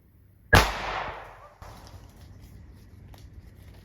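A gun fired at a target outdoors near a cabin in the woods, with a single sharp loud report close by, followed by a fading rumbling decay and a quieter click.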